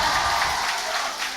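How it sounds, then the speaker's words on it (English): Broad crowd roar and applause at a League of Legends match between T1 and Nongshim, a brief, dense, steady wash of noise from a large audience. "Huge cheer from the crowd here"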